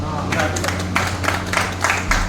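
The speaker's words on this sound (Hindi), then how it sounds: "ताली बजा दीजिए।" Applause from guests at a group party in a Bikaner restaurant, a steady wash of many hands clapping at close range over a low hum, with a brief voice under it.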